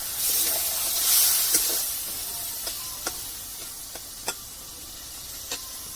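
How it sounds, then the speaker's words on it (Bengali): Crab fries with spices in a pan, giving off a soft, steady sizzle and hiss, with a few sharp clicks and scrapes from stirring scattered throughout. "কাঁকড়াটা মশলার সাথে ভালো করে কষিয়ে নেবো"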